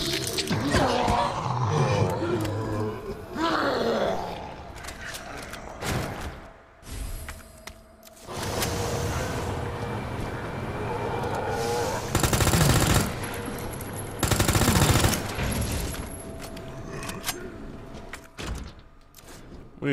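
Bursts of gunfire in Resident Evil 2, aimed at a monster in a sewer area. The shots come in loud clusters with quieter stretches between them, and there is no talk.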